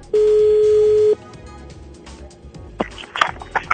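On a radio phone-in, a steady telephone line tone sounds for about a second, followed by faint clicks and a short run of quick dialing beeps.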